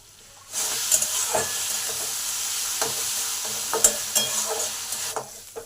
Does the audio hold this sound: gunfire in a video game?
no